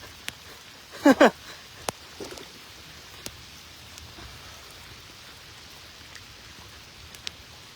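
Heavy rain pours down on a fishing trip, a constant soft hiss with occasional sharp drips and knocks close by and a brief voice near the start.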